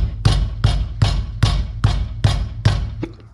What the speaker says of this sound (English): you can hear some sort of heat shield is loose or something